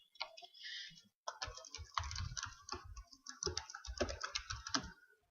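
Fast, crisp keystrokes on a computer keyboard while login credentials are entered, with irregular bursts of clicks separated by brief pauses, close and fairly quiet, with no voices.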